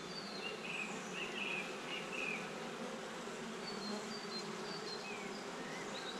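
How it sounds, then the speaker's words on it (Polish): A dense, steady hum of many honeybees buzzing together in an open hive, continuous and close, with no voices. "Pszczoły huczą."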